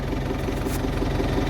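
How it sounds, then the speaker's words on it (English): A farm tractor engine runs steadily at close range, a continuous low mechanical drone with an even idling rumble and no break across the moment. "So everyone, I'm actually trying to drive a tractor."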